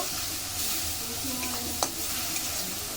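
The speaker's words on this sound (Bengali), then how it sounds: "মশলা কষিয়ে নেব" Spices with green chilli, salt, red chilli powder and turmeric sautéing in mutton fat, a close continuous sizzle with soft stirring scrapes and one brief sharp clack of a utensil.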